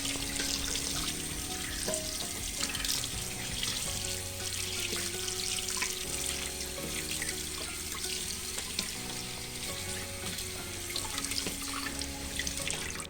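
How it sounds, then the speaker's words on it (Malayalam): Crabs being rinsed two or three times under running tap water in a kitchen sink, giving a steady, close splashing flow throughout with no voices. "നമുക്ക് ഒന്ന് വെള്ളം ഒഴിച്ച് 2-3 പ്രാവശ്യം നമുക്കൊന്ന് വാഷ് ചെയ്തെടുക്കാം"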